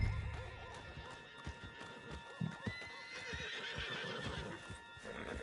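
Neighing horse with clip-clopping hooves in Red Dead Redemption 2, several whinnies over steady hoof beats and a low ambient bed, no talk.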